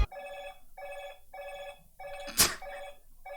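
An iPhone rings in repeated short electronic bursts with brief gaps, one after another, interrupted once by a sharp noise.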